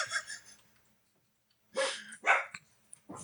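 A dog barking excitedly indoors at someone's arrival, a couple of short loud barks and a yelp after a brief silence, fairly close.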